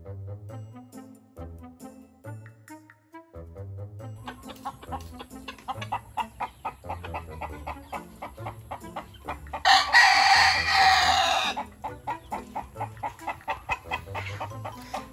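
A flock of farm chickens clucks in quick, irregular bursts close by, and a rooster crows loudly once midway through, with no talking.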